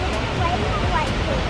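A waterfall on Iceland's south coast, reached by a short path, pours a steady, dense roar close by with no break, and a faint murmur of people mixes into the rush.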